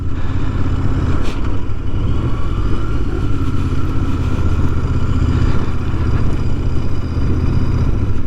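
Royal Enfield Interceptor motorcycle riding along Marine Drive in Llandudno, Wales, with a steady, loud engine drone and wind rush throughout, no speech.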